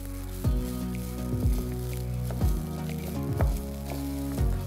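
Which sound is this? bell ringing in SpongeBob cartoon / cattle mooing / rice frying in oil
rice frying in oil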